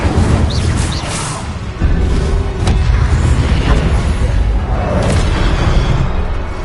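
Incendio fire spell cast in Hogwarts Legacy bursts with a loud booming whoosh and crackling flames, followed by rumbling impacts and roaring fire that continue to the end.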